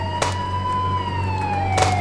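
A police car siren from the Indian Bike Driving 3D video game wails in a steady, slowly falling tone over a low engine hum, with brief bursts of noise at the start and near the end.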